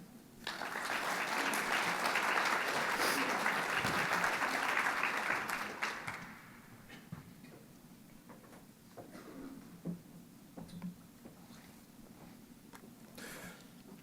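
An audience at a scholarship awards ceremony breaks into applause to welcome a speaker. The dense clapping lasts about six seconds, then drops away to a quiet room with a few scattered claps and small noises.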